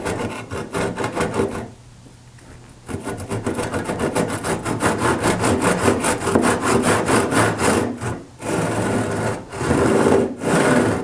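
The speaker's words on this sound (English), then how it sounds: "I begin elongating the strokes of the saw a little bit in an effort to connect the two corners" A handsaw crosscutting a board of wood, close and loud, with a fast steady back-and-forth rasp of strokes, broken by a short pause early on and a few brief stops near the end.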